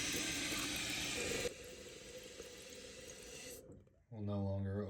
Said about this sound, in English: this toilet, when it fills back up,